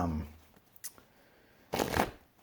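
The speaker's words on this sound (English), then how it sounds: "I wish I could magically shuffle these cards." A deck of playing cards is shuffled by hand, with a short riffle at the start and a louder, fuller riffle burst near the end, separated by quiet handling.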